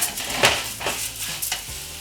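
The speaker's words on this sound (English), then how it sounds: "I like the sizzle. Good sound." One minced cooking onion sizzling in a hot pan with oil while making risotto, a close, continuous frying hiss punctuated by repeated scraping strokes of a spoon stirring, no voices.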